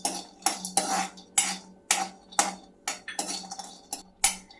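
Cashews and almonds being dry-roasted in a kadai, with a spoon scraping and clinking against the metal in repeated strokes, close and fairly loud, a low steady hum underneath.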